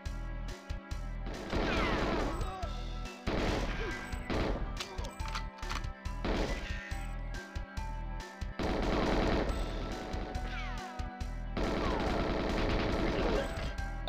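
Bursts of automatic gunfire and bullet impacts in GoldenEye 007 come in repeated loud volleys separated by brief gaps, with a steady low hum underneath.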